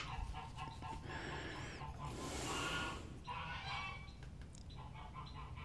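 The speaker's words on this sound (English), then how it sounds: "damn geese are crazy" Geese honk and cackle nearby outdoors at a woodworking shop, a run of loud overlapping calls lasting several seconds over a low steady hum.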